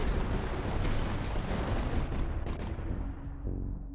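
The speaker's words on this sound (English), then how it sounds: "Light mortar popping off" Light mortar fire in the video game Tower Dominion: a dense barrage of overlapping booms and crackling blasts, loud and sustained, thinning out toward the end.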